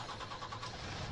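A truck engine in Farming Simulator 19 turns over and settles into a steady mid-pitched running note. The burst is brief, close and fairly even.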